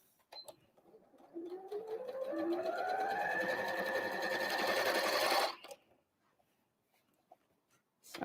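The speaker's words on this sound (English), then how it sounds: "Now it's snug and sewn inside there." A sewing machine stitches a Christmas tree napkin in one continuous whirring run of about four seconds, speeding up and rising in pitch before stopping, with faint clicks around it and no talking.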